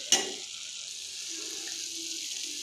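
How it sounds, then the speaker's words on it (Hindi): A coconut mixture cooks in a frying pan while being stirred continuously; a soft, steady sizzle runs throughout, opened by a brief sharp clatter of the utensil against the pan, with no talking. "मुसलसल चलाते हुए पकाते रहेंगे और उस वक्त तक पकाएंगे जब कोकोनट बर्तन को छोड़ने ना लगे।"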